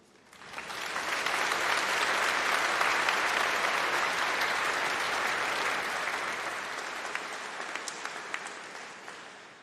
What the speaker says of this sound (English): can we have a round of applause for everyone today, in and out this room